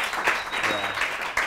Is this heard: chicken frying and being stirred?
no